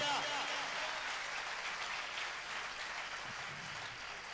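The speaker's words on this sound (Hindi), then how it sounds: "जोरदार ताली उस परमेश्वर के लिए।" A church congregation applauds in praise, a sustained even wash of clapping hands that fills the room and fades slightly toward the end, with voices mixed faintly underneath.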